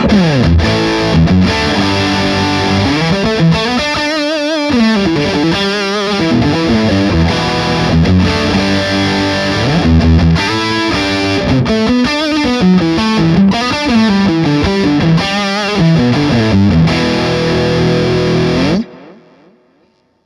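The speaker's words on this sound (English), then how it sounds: "if I just bring the reverb out a touch, the kind of drive sound we're getting" Electric guitar played through a PRS Sonzera 50 combo amp with a driven, overdriven tone and a touch of reverb, loud sustained chords and riffs ringing continuously before cutting off near the end.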